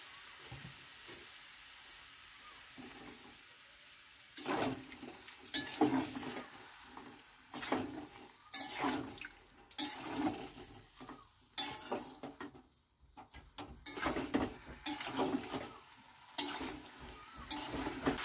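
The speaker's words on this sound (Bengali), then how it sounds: "এইভাবে নাড়িয়ে নাড়িয়ে মিনিট 5 এটাকে কষিয়ে নেব ভালো করে" Jackfruit cooking down in spices in a pan, sizzling and frying with repeated bursts of stirring and scraping at a steady rhythm, loud and close, with no voices.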